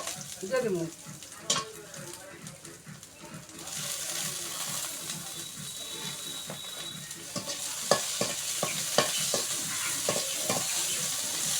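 Onion and dried chili frying in a pan in a home kitchen, an opening of faint voices giving way to a steady sizzle punctuated by sharp, clicking stirs and scrapes, louder toward the end.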